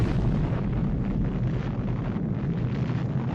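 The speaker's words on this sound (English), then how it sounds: "leading to the nuclear explosion" The Little Boy atomic bomb blast over Hiroshima in 1945, a 15-kiloton nuclear explosion, heard as a deep sustained rumbling roar with wind-like buffeting that stays loud and dense throughout.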